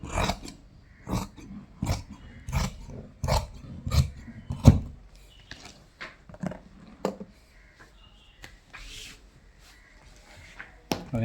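Scissors snip through fabric while a nurse's uniform coat is cut out, making a run of sharp, close cutting strokes in quick bursts, then sparser snips and light handling noises.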